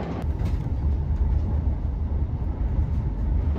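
Indian overnight sleeper train running on the rails, a steady loud low rumble with rattling carriage noise throughout, no talk.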